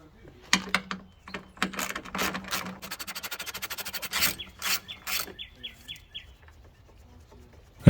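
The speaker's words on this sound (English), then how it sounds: "All 3 of these bolts are 10mm, so let's get them removed" A ratchet works loose 10mm headlight bolts on a Ford F-150 in a close run of rapid clicking strokes, then a few light chirping squeaks follow before quiet.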